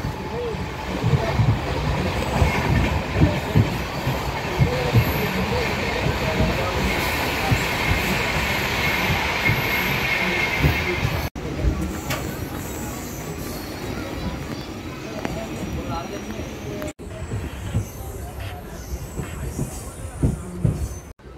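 An Amrit Bharat Express train rolls on the line near Narsipatnam Road, its wheels rumbling loud and steady throughout, with a few sharp changes in the noise partway through.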